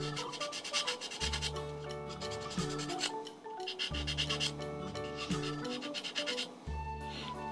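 A sponge sanding pad rubs over a plastic model kit of a T-4 Blue Impulse jet, a close, rhythmic scratchy scrubbing in quick back-and-forth strokes with brief pauses, steady and alone without speech.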